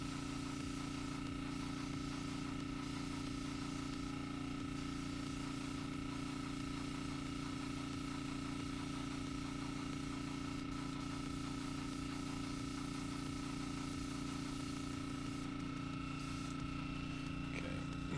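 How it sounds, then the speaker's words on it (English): Airbrush with its needle backed fully out, spraying paint like an aerosol can: a steady, continuous hiss of air and spray with a constant low hum beneath, running unbroken the whole time with no voices. "Turn the airbrush into a spray paint can."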